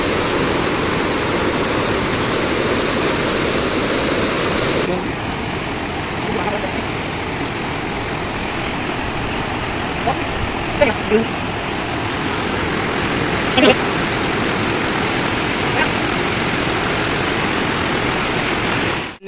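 A mountain stream rushing over rocks while hikers cross it, a loud, continuous roaring wash of water that softens slightly partway through, with a few faint knocks and scuffs over the top.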